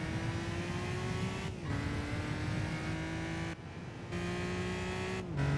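Gran Turismo 5 race car with rear tyres spinning under hard acceleration, engine droning loud and steady, pitch climbing through gears with brief dips at each shift.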